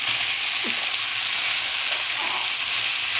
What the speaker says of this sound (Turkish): Makarnamla birlikte biraz daha kavuruyorum.